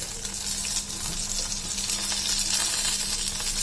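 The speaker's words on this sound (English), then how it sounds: "Then I'm adding grated coconut and 1 small size tomato chopped." Grated coconut and chopped tomato hitting translucent onions frying in oil, a continuous loud sizzle and hiss with faint stirring underneath.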